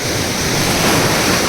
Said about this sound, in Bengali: দীঘা মানে এরকম বড় বড় ঢেউ